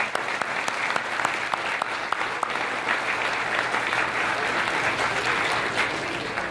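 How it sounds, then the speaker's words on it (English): An audience at an awards gala gives the judges a round of applause, a full and sustained burst of many hands clapping that stays steady and fairly loud throughout. "Please join me in giving our judges a big round of applause"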